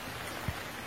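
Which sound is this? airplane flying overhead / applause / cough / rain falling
rain falling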